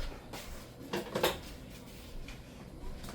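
Dishes clink and knock in a home kitchen as a bowl is taken out, a short cluster of clattering ceramic sounds in the middle over quiet room tone.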